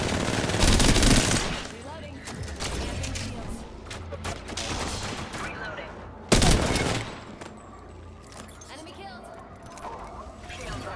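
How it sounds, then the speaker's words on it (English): Grenade blasts and rapid gunfire in the shooter video game The Conduit, with a loud burst near the start and another sharp blast midway over continuous firing, under excited talk. "I just threw two grenades."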